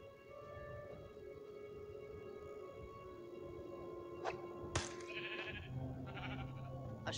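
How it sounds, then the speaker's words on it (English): Sheep bleats from the video game Minecraft Story Mode, a couple of short wavering cries rising late over a steady droning game background. "A sheep?"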